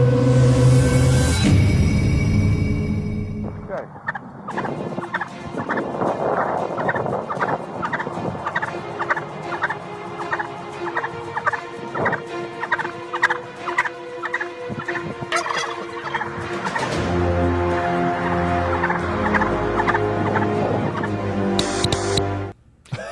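A turkey gobbles in a loud rapid warbling burst at the start, followed by a long stretch of repeated clucks and sharp calls, then another gobbling run, all close and clear with no talking.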